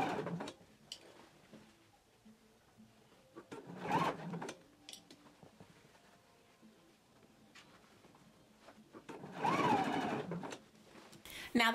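A sewing machine bastes a collar onto a jacket in two short bursts of rapid stitching, separated by several seconds of near quiet.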